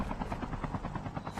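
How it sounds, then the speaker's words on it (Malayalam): A helicopter in the mobile battle-royale game Call of Duty Mobile thrums with a fast, pulsing rotor beat, heard steadily at moderate level with no speech over it. "അയ്യോ അടുത്ത ഹെലികോപ്റ്റർ"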